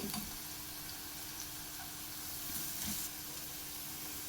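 Spices and onions frying in oil for methi masala, being stirred: a steady, moderately faint sizzle runs throughout, with a few soft scraping touches and no voices.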